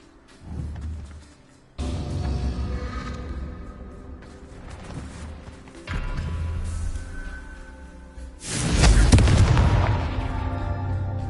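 Blasting spell explosions from the Confringo curse in Hogwarts Legacy, several heavy booms and bursts in succession, the loudest and broadest one near the end, with a steady rumbling game backdrop between them.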